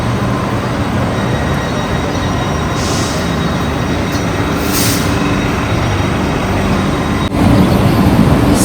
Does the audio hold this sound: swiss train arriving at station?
yes